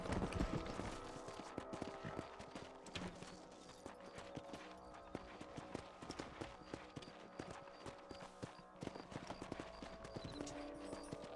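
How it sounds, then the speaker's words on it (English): Horse hooves clip-clop steadily in Red Dead Redemption on PC, a continuous close rhythm of riding with several horses moving together over open ground. "Let's get back on the horses and see what else is going on."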